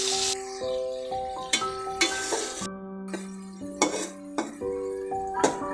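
Pieces of fish added to spiced masala in a pan for a snakehead fish and flat bean curry. Metallic clinks and clanks of utensils on cookware ring out repeatedly over a faint sizzle.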